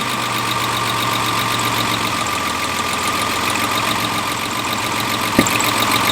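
A Zenith-carbureted engine idles smoothly and a little fast, holding a steady mechanical hum with a faint whine and one brief click near the end, no voices.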